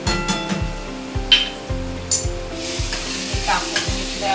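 Chili powder and pav bhaji masala are stirred in a sizzling pan for Mumbai-style pav bhaji: a steady, loud frying hiss with rhythmic scraping strokes of the spoon, close up, with no voices.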